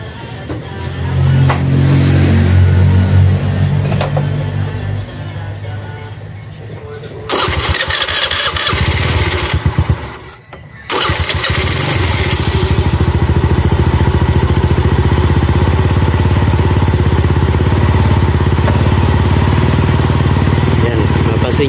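Kymco K-Blade 125 motorcycle engine starting and settling into a steady idle after a cleaned drive pulley, loud and close, with a brief pause and restart midway.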